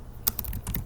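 Computer keyboard keys pressed at a PC command prompt, a quick burst of several crisp clicks in close succession, near and clear with no talking over them.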